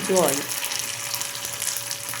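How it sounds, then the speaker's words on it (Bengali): Curry leaves hit hot oil with a brief loud crackling burst, then settle into an even, close sizzle as they are stirred for a dhokla tempering. "কারি পাতা দিয়ে দিলাম খানিকটা, নেড়ে চেড়ে নেব"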